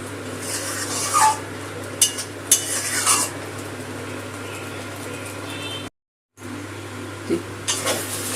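Prawn heads cook in a pan, releasing their water as they froth, while a utensil stirs and scrapes them in irregular strokes over a soft constant sizzle, with a short dropout of silence partway through.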